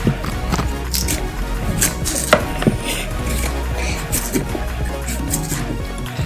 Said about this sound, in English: Cassava too, we'll peel it now.